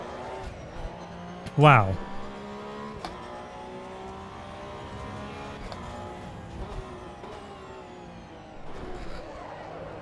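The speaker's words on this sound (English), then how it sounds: "seeing a Porsche Super Cup go flying over a curb" A Porsche Supercup race car in Assetto Corsa EVO roars steadily as it launches over a curb, with a sharp jolt early on and a voice exclaiming over the engine drone.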